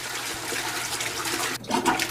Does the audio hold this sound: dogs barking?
no